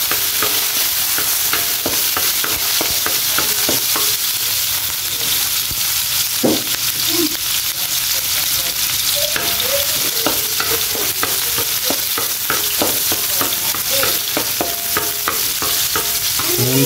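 Crushed onions stir-fry with mixed vegetables in a hot pan, giving a steady, loud sizzle throughout with repeated clanks and scrapes of the stirring utensil.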